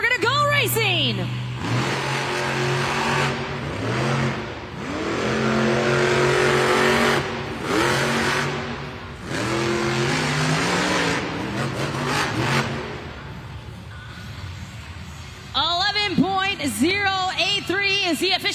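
Monster trucks at a Monster Jam arena championship event in Lexington, Kentucky rev hard and roar down the race lanes, engines surging loud and close, while an announcer talks over the racing noise throughout.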